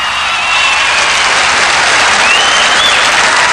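A crowd applauds the winner at the 1981 German Shepherd Dog Club of America national dog show, a loud, dense and continuous wash of clapping that swells slightly after the first half second and holds steady.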